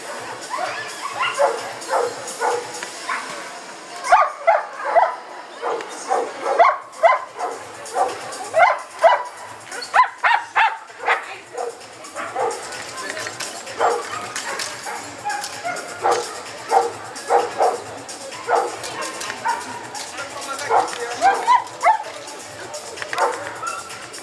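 Dog barking repeatedly in short bursts during a protection training exercise at Helecine, with a simulated assault on the handler; loud, rhythmic barks and some yips run throughout, with people talking in the background.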